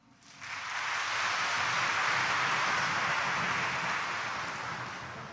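Applause fills a Quiapo Church mass as the congregation claps together, a thick continuous roar of hands rising quickly, holding strong for about four seconds and easing off near the close.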